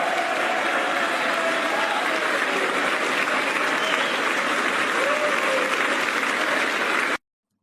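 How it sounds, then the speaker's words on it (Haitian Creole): A small group claps and cheers near a political speech, dense continuous applause at steady loudness that stops abruptly. "c'est un petit groupe à côté qui bat bravo"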